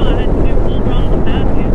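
A 2018 Harley-Davidson Fat Bob motorcycle riding on throttle, a steady loud engine drone buried under heavy wind rush against the microphone, with faint voices.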